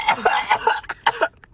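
A person coughs after smoking, a close, loud cluster of rough hacking coughs and throat clearing in quick succession, then a short quiet tail.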